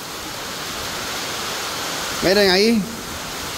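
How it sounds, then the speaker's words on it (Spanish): Heavy, unexpected December rain pours down in a continuous broadband hiss that stays steady from start to finish, and a voice speaks briefly over it near the end. "no ha parado de llover por casi 20 minutos"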